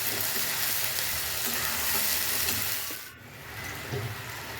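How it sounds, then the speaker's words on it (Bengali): Chicken pieces sizzling in hot oil in a pan for chicken ghugni, with a steady loud frying hiss throughout, briefly dipping as they are stirred and turned, then resuming. "দিয়ে এবার এটাকে আমি নেড়ে ছেড়ে ভালো করে কষিয়ে নেব।"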